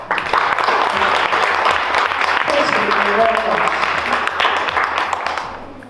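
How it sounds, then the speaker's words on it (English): A large audience breaks into sustained, loud applause for the next speaker at a health and healing event, the dense clapping steady throughout and fading slightly at the very end. "please give a huge round of applause for our next speaker"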